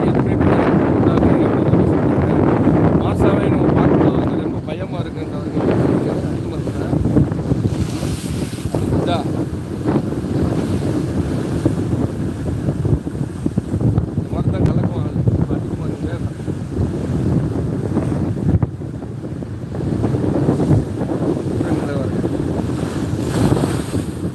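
Strong wind buffets the seashore beside moored fishing boats in the rainy season, a loud, constant roar with gusty microphone rumble and surf washing underneath, while voices talk faintly beneath it.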